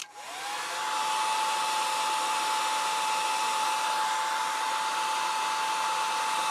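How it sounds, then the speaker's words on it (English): A hair dryer, used to shrink heat shrink tubing, starts up and blows continuously, a steady loud whooshing whine with a high tone, nothing else heard. "you can put the heat shrink tube on with a hair dryer"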